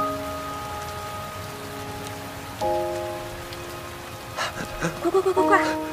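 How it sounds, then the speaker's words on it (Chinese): Rain pours down steadily in a broad hiss through a dramatic outdoor scene, with sustained music tones over it and a few brighter patter bursts near the end. "哎，下雨了"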